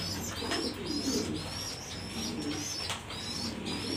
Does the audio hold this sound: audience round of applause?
no